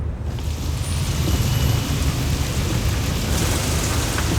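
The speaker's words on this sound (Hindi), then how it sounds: "अरे वाह, बारिश।" Steady heavy rain falls with a dense, constant hiss, a low rumble running underneath throughout and no voices.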